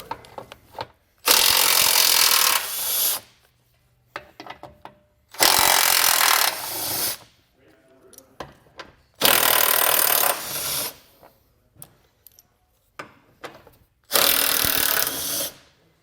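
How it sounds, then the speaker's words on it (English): Power tool bursts removing the 15mm bolts from a 2019 GMC belly pan: four loud, close drill or impact-driver runs of about two seconds each, spaced apart, with quieter clanks and handling noises in between. "There's going to be four 15mm bolts that are going to be holding this belly pan on. We're going to take this off."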